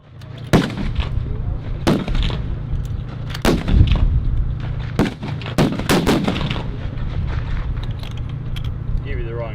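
Rifle shots at an NRA 3x600 mid-range match on a Marine Corps range: sharp, sparse cracks from nearby and distant firing points over a steady low hum, with people talking quietly between shots.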